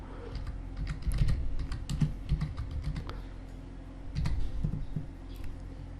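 Keys clack on a computer keyboard as a folder name is typed in Windows, a steady run of close, crisp taps in small bursts with brief pauses, no voices.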